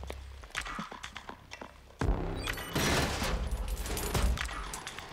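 Rapid automatic gunfire in the shooter Killzone Shadow Fall, a sustained loud burst starting midway after quieter footsteps and clatter, continuing steadily to the end.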